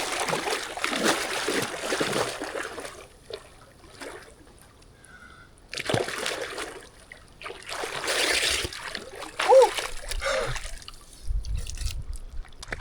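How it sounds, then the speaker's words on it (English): Water from a makeshift outdoor nature shower in Colorado drips and splashes in irregular bursts, fairly faint and close, with quiet gaps between spurts. "we're gonna get this little makeshift nature shower right here"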